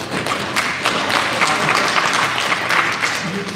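Dense audience applause fills the room, steady clapping from many hands for local election officials at a Rhode Island community election forum, with no voice over it.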